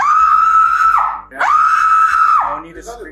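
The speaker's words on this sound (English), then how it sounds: "No need to scream." A teenager screams during an arrest, two long, loud, sustained cries in quick succession, close to the mic, with a short gap between them.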